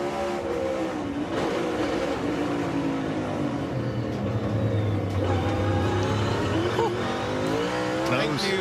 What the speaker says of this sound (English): Just listen how hard he gets on the brakes.